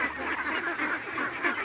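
Ducks on an Indonesian duck farm quack continuously in a dense, overlapping chorus, steady and fairly close, with no voices over them.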